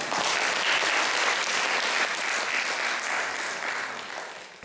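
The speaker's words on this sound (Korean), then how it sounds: "여러분들 위해서 박수 한번 쳐드립니다" Audience at a children's dream speech contest gives a round of applause, a full, even roar of many hands clapping that tapers slightly toward the end.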